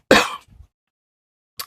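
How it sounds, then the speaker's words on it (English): A single sharp cough bursts out close to the microphone, followed by a faint throat sound and a brief breath after a pause of silence. "Sorry, didn't know I was going to cough."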